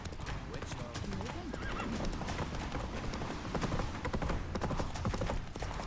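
Roach, a horse in The Witcher 3, gallops with quick rhythmic hoofbeats and lets out a whinny, up close, with voices and game sounds mixed in.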